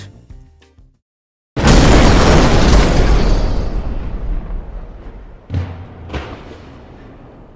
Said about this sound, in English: Okay, we are completely done the explosion.